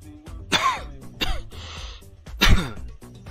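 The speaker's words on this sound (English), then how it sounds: "I'm coughing because I'm trying to talk while drinking water" Coughing from water going down the wrong way: three sharp, throaty coughs spaced about a second apart with a raspy breath between, close and fairly loud, the last cough the strongest.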